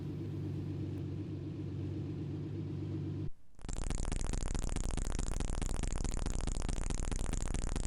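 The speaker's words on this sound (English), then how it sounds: "ready to go in our amazing Lamborghini Countach" Engine of a Lamborghini Countach in a 1990 sim racing video game: a low droning rumble, then after a brief gap a loud, buzzy, steady synthesized engine tone holding constant pitch.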